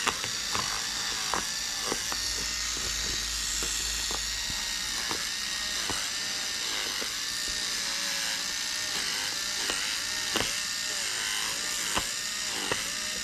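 A small electric nose hair trimmer buzzes steadily as it is used to rip out stitched fabric seams, with repeated short ratcheting catches as the blades snag threads, close and continuous.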